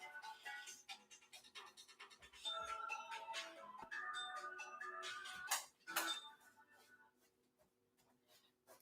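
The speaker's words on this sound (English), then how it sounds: "I forgot to bring my phone up here. It's ringing." A mobile phone rings nearby during an indoor talk, its bright electronic melody chiming in repeated tonal bursts that fade toward the end, fairly faint.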